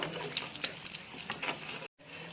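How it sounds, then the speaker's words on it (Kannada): Aloo bonda frying in hot oil over a medium flame, a close crackling, bubbling sizzle with small pops that runs steadily before cutting out briefly near the end, then resuming faintly. "ಇವಾಗ ಇದನ್ನು ಫ್ರೈ ಮಾಡ್ಕೊಳ್ಳೋಣ"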